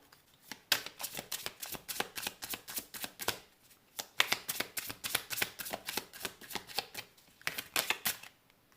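Oracle cards shuffled and drawn during a tarot reading: steady, rhythmic papery flicks and riffles heard up close throughout, with no speech.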